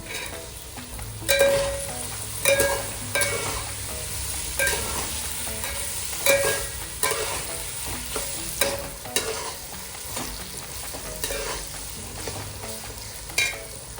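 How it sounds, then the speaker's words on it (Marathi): French beans stir-fried for homemade fried rice sizzle steadily in a hot pan, with repeated scraping and stirring strokes rising over a constant frying hiss, close and moderately loud. "आता त्यात फरसबी टाकून परतून घेऊया।"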